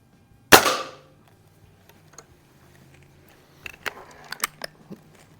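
A Feinwerkbau 124 springer air rifle fires one sharp, close crack with a short ringing tail, followed by faint clicks and handling noises at an outdoor range.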